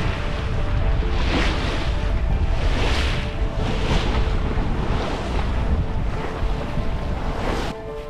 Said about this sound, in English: You can't get more basic than wind and water.